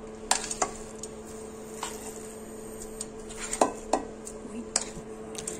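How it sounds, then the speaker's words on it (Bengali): Ground moong dal paste is stirred in a kadai, producing scattered clinks and scrapes of a spatula against the metal pan over a faint low hum, quiet and intermittent with no voices. "এবারে এই ডাল বাটাটা কড়ার মধ্যে দিয়ে নেব।"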